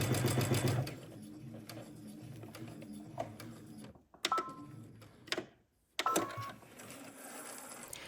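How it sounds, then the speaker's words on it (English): Domestic sewing machine running a long basting stitch along a dress hem, with steady mechanical whirring in several runs, brief pauses and a gap of near quiet before it starts up again. "we're going to use the basting stitch to help to ease in the fabric when we get ready to press over the hem"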